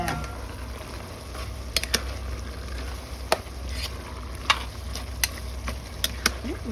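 A pot of chicken bubbling at a steady boil up close, a constant hiss broken by scattered sharp pops and bursts.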